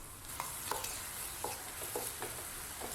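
Ginger, garlic and onion paste frying in oil in a kadai, a bright steady sizzle with repeated short scraping stirs about every half second, nearby and moderately quiet.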